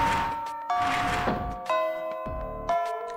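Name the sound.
school bell ringing in the video game Fate/EXTRA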